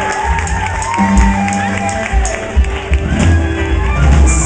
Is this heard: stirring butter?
no